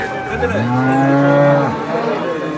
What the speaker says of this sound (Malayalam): ഇടയ്ക്കിടയ്ക്ക് ഈ പശുവും പോത്തൊക്കെ അമർന്ന ശബ്ദം ഉണ്ട്